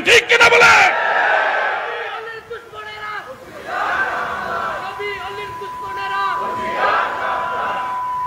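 A crowd at an Islamic waz gathering shouts religious slogans in unison: a sharp opening burst, then several loud chanted phrases that swell and fade.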